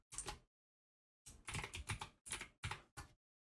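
Computer keyboard typing a word, one short burst of keystrokes, a pause, then a quick run of about eight close, crisp clicks in small clusters, quiet overall with no talk.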